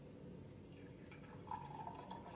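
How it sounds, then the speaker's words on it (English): Rooibos tea is poured into a mug, a soft trickle that fills in with a rising liquid tone halfway through, quiet and close, with no talking. "And I'm just gonna press those leaves down and pour this into my mug."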